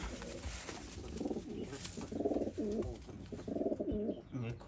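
Pigeons coo repeatedly in a Punjabi pigeon loft, a run of distinct rolling coos at close range, loud and rhythmic, with no talk over them.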